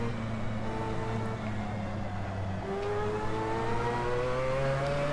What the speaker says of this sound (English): it is a screaming quad-rotor beast of